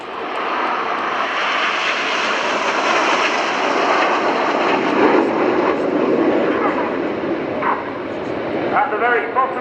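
Red Arrows jets in Concorde formation at an airshow fly over in a steady, loud engine roar that swells and holds across the pass, with a commentator talking over it.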